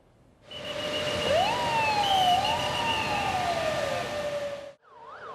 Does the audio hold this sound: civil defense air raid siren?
yes